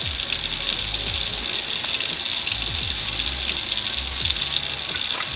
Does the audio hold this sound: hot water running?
yes